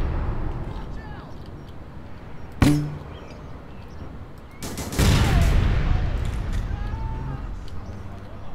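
Gunfire cracks in the online shooter APB: Reloaded, one sharp shot followed a couple of seconds later by a rapid burst of shots and a rushing noise, with a voice speaking in the background.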